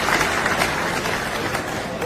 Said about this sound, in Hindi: एक बार जोरदार तालियों के साथ स्वागत करके हम अपने बड़े भाई सुभाष अग्रवाल जी को बुलाएं